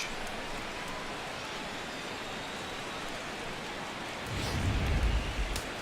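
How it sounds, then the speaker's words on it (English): Steady rain hisses as a continuous wash during a Royals vs Twins baseball game in MLB The Show 16, with a low rumble swelling briefly near the end; no talk is heard. "This may have something to do with the rain that's falling out there."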